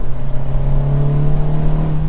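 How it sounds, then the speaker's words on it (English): A 2023 Acura Integra A-Spec with a manual gearbox accelerates at full throttle, its engine note loud and close, holding a steady droning pitch as revs build without a break. "So full throttle."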